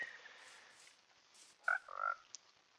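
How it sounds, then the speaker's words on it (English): A frog in a video game croaks in two short, bright bursts close together, fairly faint over a quiet ambient game background with no talking. "That's a frog, right?"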